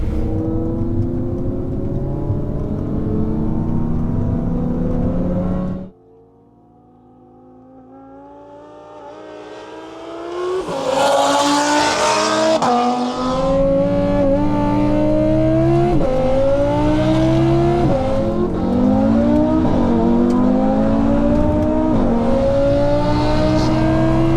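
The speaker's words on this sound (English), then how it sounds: "So we're racing an RS3 which is running race fuel, I believe is 700 odd horsepower" A modified Audi RS3 running race fuel, around 700 horsepower, roars loudly through the gears while racing supercars, its engine note climbing in repeated rising sweeps after a brief lull, close and sustained.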